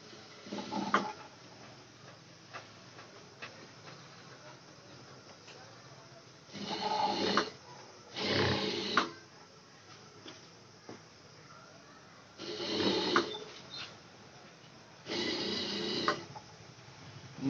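A sewing machine stitches piping onto a blouse in several separate bursts of whirring mechanical running, each a second or so long, with quiet pauses between them.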